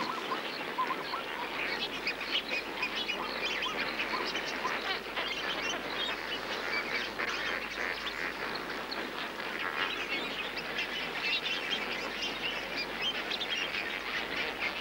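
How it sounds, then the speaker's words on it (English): A large display group of lesser flamingos mixed with some greater flamingos calls constantly in a dense, honking and chattering chorus, steady and moderately loud throughout with no pauses. "They're mostly lesser flamingos, with some greaters among them."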